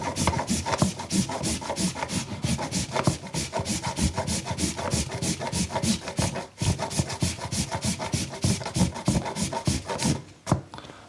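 Chocolate grated with a Deiss zester in long, even strokes, a quick run of dry rasping scrapes repeating in steady rhythm, close and fairly soft, with a brief pause near the end.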